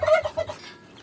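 Turkeys cluck in short, close bursts, a black hen turkey among the flock, with a few quick calls in the first half before fading to quiet.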